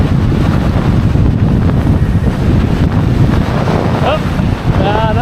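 Strong wind roars and buffets the microphone while windfoiling on open water, a loud constant rushing noise with surges; a voice is briefly audible near the end.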